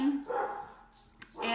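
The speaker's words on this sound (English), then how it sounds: "my dogs are barking" Several dogs bark at a delivery arriving, sharp barks breaking out at the start and again near the end, mid-distance, with a person talking in between.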